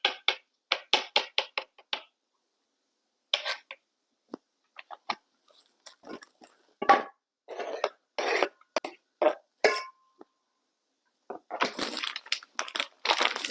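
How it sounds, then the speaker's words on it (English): A knife chops boiled eggs into small squares on a cutting board, with quick runs of crisp taps broken by short pauses and a few isolated knocks. "chop them, little squares."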